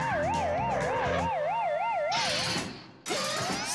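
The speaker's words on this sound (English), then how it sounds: "the alarm goes off, making the siren howl and the light flash" A cartoon security alarm siren howls loudly in a rising-and-falling wail, looping steadily, then breaks off briefly near the end before a burst of bright noise and a fresh sweep.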